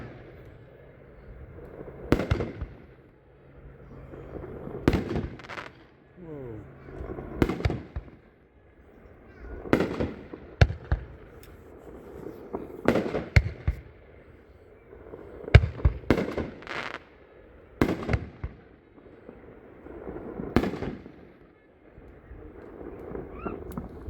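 A 500 gram Loud and Rowdy fireworks cake fires a long string of sharp, loud booms spaced a second or two apart, each echoing off outdoors, with a brief whistle rising early on.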